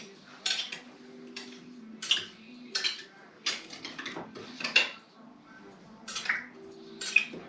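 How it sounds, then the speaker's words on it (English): A butter knife stirs pickled fish packed in a jar, giving a string of sharp metallic clinks and scrapes against the glass in irregular bursts, close and fairly quiet, with no talking. "So I take the butter knife like this, just to make sure. Get it all kind of mixed together."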